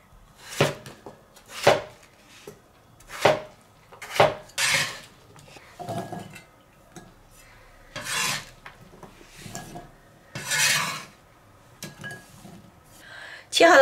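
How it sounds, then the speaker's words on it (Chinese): A knife cuts potatoes into strips and then dice on a cutting board, a close series of separate rasping slices and knocks with short gaps between strokes, no talking. "改刀切成条， 最后切成土豆丁。"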